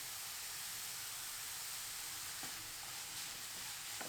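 Grated carrots sautéing in oil in a frying pan, a close, steady hissing sizzle with faint occasional stirring taps.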